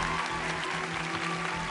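Large studio audience applauding at the America's Got Talent 2016 finals, a dense, steady wash of many hands clapping at full volume throughout, with no voices over it.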